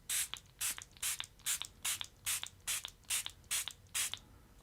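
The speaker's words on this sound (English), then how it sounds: "we'll spray it at least 10 times" About ten quick, evenly spaced hisses from a trigger spray bottle, each a short burst of misting liquid, close by with nothing else around.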